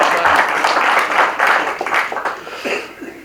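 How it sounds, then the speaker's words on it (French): Clapping from an audience at a local French Communist Party New Year's gathering in the Gard, a bright, uneven patter that swells and fades in waves, with some voices mixed in. "tout le monde est important, on peut l'applaudir"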